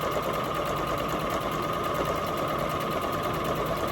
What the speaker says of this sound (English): I'm just going on my blue lines, sewing down my blue lines, then I back stitch back and forth from the beginning to the end